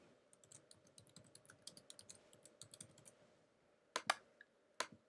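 Typing on a computer keyboard: a steady run of soft, close key taps over about three seconds, then a few sharper, louder clicks, with no talking.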